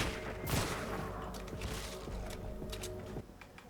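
Harsh, rapid explosive blasts from a video game weapon crackle in a dense volley, like a burst of gunfire, holding steady over a low rumbling hum.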